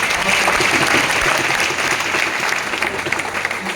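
Loud, sustained clapping from a large audience, with cheering voices mixed in, at a gathering honouring students selected as Haryana Patwari officials; it stays dense throughout and tapers slightly toward the end.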